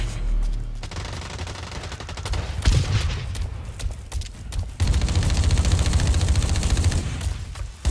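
Rapid automatic gunfire in the video game BlackLight: Retribution, dense bursts of shots that grow louder and more sustained partway through, with no talking.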